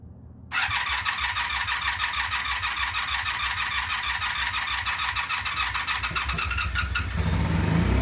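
A 2002 Honda Magna VF750C V4 motorcycle under rebuild cranks over with a steady whirring starter rhythm, then catches and fires into a louder running idle near the end.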